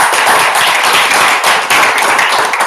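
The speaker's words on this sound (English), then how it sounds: "Give it a applause." Loud, continuous audience clapping at a Toastmasters club meeting keeps up an even wash of applause throughout, with no talking heard.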